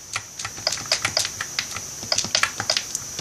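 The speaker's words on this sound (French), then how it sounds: "j'espère que les bruits de mon pad ne vous gênent pas en fait" A game controller's plastic buttons are pressed in quick, irregular bursts of sharp, close clicks with brief pauses between them, heard on their own without any voices.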